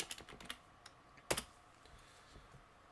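Keystrokes on a computer keyboard patter in quick irregular bursts, close and fairly soft, with a short cluster of harder taps midway and sparse presses trailing off.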